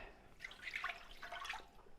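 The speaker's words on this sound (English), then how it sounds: "So we're going to put the water in a large saucepan." Water splashes and trickles into a large saucepan, a faint burst of bubbly, gurgling pours lasting about two seconds.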